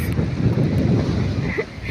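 Strong wind roars and buffets against the microphone in a steady, close rush, with a faint watery wash underneath.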